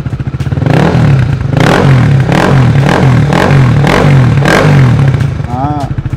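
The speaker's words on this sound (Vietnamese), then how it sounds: "bô chính hãng nghe trầm ấm" A Honda CB150R motorcycle fitted with a genuine Yoshimura exhaust revs up close and loud in about five rhythmic throttle blips, its deep, warm, throbbing note filling the recording, with a brief voice-like sound near the end.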